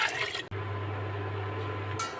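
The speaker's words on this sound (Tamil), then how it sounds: "அரிசி எவ்வளோ எடுத்தோமோ அதுக்கு டபுளாக தண்ணி ஊற்றிக்கோங்க." Water poured steadily into a cooking pot for tomato rice, a close, continuous filling stream that starts abruptly and runs for about two seconds without speech.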